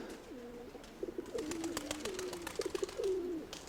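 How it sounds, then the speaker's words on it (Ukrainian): Pigeons cooing close by on an overcast, drizzly day, low rolling coos repeating in short phrases with light fluttering and chirps in between, no talk. "Заспокоїлись голуби."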